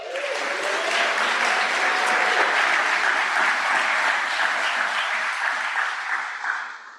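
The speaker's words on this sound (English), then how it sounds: "That's your warm-up applause" Steady applause from a conference audience at a summit, a dense wash of many hands clapping that holds evenly for several seconds and then fades out, with no talking over it.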